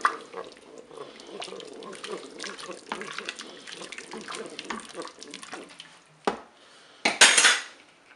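A spoon clinks and scrapes inside a Cookeo multicooker pot while cornflour is stirred into sauce for Flemish carbonade, with quiet irregular taps and swishes, a sharp knock, then a louder final clatter.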